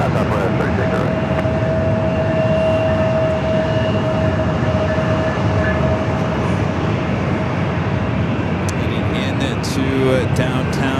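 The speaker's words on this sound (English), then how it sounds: "this train coming in. It looks like a surf liner." A Surfliner passenger train rolls in near an airport with a loud, steady rumble and a drawn-out tonal hum, then squeals and clanks toward the end, while someone talks and radio chatter plays over it.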